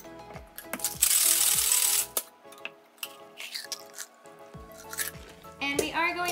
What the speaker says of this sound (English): Go ahead and add some ice.